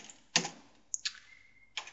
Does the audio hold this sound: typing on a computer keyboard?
yes